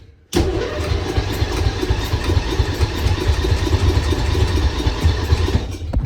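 A custom lawnmower with a Briggs engine is pulled to a start after sitting unused for about a month, catching abruptly and settling into a loud, steady, close-up running chug.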